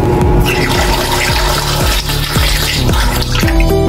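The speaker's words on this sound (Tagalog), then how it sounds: "Dagdagan ko kayong tubig na." Water pours loudly and continuously into a simmering pot of shrimp in coconut milk, a rushing, splashing stream lasting the full few seconds without speech.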